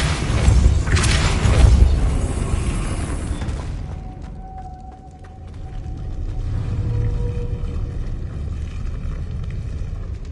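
A Depulso spell cast in the Hogwarts Legacy video game lands as a loud, booming burst, then fades into a lower rumbling wash with a brief tonal hum, and the din persists to the end.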